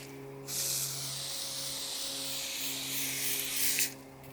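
Spray from a can or gun hisses steadily onto a test piece of leftover material for camper van kitchen work, a close, continuous broadband rush lasting about three and a half seconds before cutting off, with a faint hum beneath.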